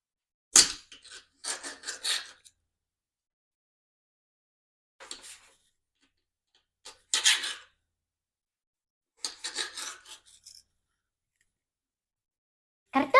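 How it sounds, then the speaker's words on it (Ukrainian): Several separate bursts of crisp knife cutting and chopping as potatoes are cut into wedges against a board, with quiet pauses in between. "А зараз нарізаємо картоплю скипками."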